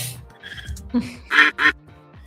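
Two loud, close duck quacks from a sound effect on a live stream, coming in quick succession near the end after a few softer bird-like noises.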